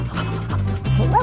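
Dogs barking, including an Irish setter, with a quick run of close, loud yips and barks in a short burst.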